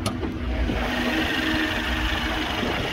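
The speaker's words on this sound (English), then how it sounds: "As you can see, engine idling very happily here." A 2017 Mercedes-Benz C300 4Matic Cabriolet engine idles steadily up close, a smooth, even mechanical hum with a faint rhythmic knock.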